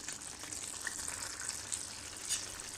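Fish simmering in a masala base for fish pulao makes a soft, steady sizzle that hisses on without a break. No one speaks over it.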